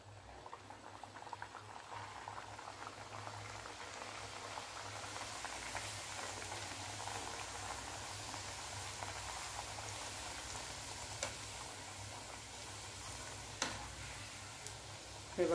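Puris frying in hot oil over a low gas flame give off a steady, dense bubbling sizzle that runs unbroken throughout, fairly close and even in level, with a faint clatter near the end.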